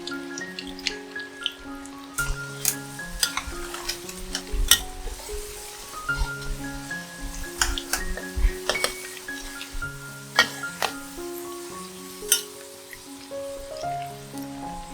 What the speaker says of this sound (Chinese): 将适量的油倒入锅里，油热后倒入马铃薯，